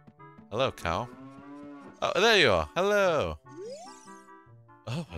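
A cow lowing in The Legend of Zelda: Ocarina of Time, a few loud, drawn-out moos with rising and falling pitch, close by, with a brief jingle near the end and a voice talking between them.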